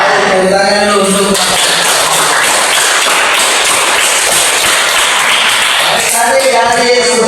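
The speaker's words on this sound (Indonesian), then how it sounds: "Ayo tepuk tangan dulu" A classroom audience claps for students, a dense, loud burst of hand claps filling most of the stretch, with a voice speaking at the start and end.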